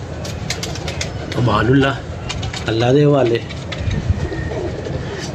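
Pigeons at a rooftop loft cooing in two rolling bursts, close and fairly loud, over a background of clicking and someone speaking briefly.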